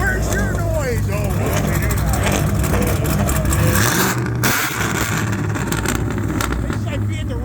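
A loud car engine roars and revs at a Sunday car meet, a 392 Jeep running E85 among the cars, with a sustained, fluctuating rumble nearby and people talking over it.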